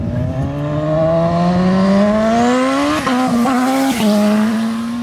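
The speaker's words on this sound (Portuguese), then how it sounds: "Chegou mais uma moto pra cortar a gira." A 160 cc motorcycle pulls up, its engine note climbing loud and close before a few sharp throttle blips and a steady revving hold, with no speech.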